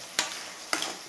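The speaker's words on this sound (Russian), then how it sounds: "Итак, друзья, наши улитки уже жарятся 5 минут." Grape snails fry in a pan under a steady low sizzle, with two quick scraping stir strokes cutting through it.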